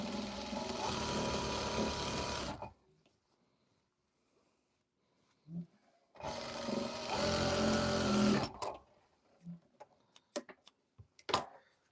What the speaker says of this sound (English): Just keep on sewing until it gets somewhere.